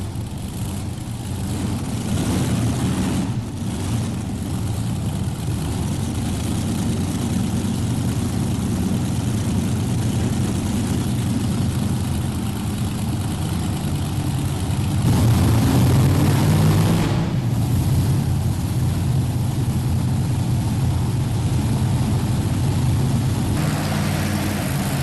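A tractor pulling team's engines, about 4,500 horsepower, roar loud and unbroken at the 1999 National Farm Machinery Show, a dense low rumble that swells slightly midway.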